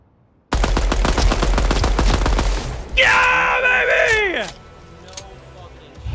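A DMR rifle fires in the video game Deadrop, a rapid string of loud, sharp shots in quick succession. Near the end a voice cries out over the shooting before the gunfire stops.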